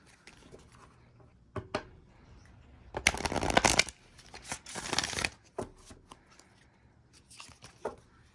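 Oracle cards shuffled for a reading, several quick riffling bursts with a longer flurry in the middle, close and soft in a quiet room without talk.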